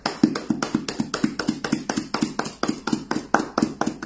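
A church congregation claps in quick, steady rhythm to acclaim the Lord, about four sharp hand claps per second, sustained and evenly paced throughout.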